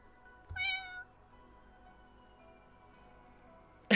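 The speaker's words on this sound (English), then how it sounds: "Meow meow." A cat gives one clear, close meow lasting about half a second, followed by quiet and a sharp noise at the very end.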